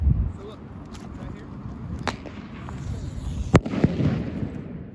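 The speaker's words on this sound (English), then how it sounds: "Let's go ahead and light some fireworks." A zombie minion firework tube is set off outdoors on the Muckleshoot Indian reservation, giving a steady crackling hiss and scattered pops, with one sharper bang midway, while people talk in the background.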